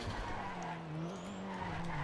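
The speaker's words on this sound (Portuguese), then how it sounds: "deixa eu estacionar o carro aqui na favela" A car in a video game skids while parking in a favela, with a steady low engine drone and a faint, drawn-out tire squeal riding over it, all fairly quiet and continuous.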